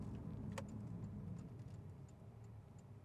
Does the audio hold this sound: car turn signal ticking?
yes